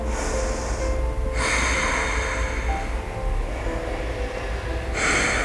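Deep, slow breaths during a yoga hip-opening class in Skandasana pose: long airy exhales and inhales close to the microphone, with short pauses between them and no talking.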